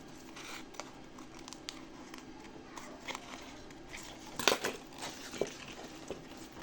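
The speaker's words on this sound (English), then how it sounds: "We can trim this inward, like trim it a bit more." Scissors trim a paper pattern for men's and boys' slippers: a faint, steady rustle, then a cluster of crisp snips and crinkles near the end, with a few lighter cuts after.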